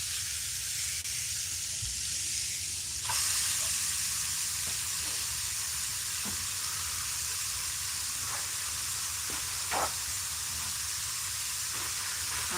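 Food sizzles in a hot pan during home meal prep, a steady close hiss that runs throughout, broken by a few faint clicks and clatters.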